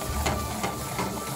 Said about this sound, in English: if we add the beef into this, it will start frying